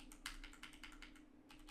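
Computer keyboard keys pressed in a quick, uneven run of light clicks, close and clear over a faint steady hum.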